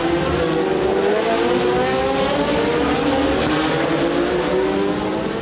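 Historic 1966-1975 Formula 1 cars with wings race in a pack through the Monaco street circuit, a loud continuous engine roar with rising and falling pitch as multiple cars pass close by.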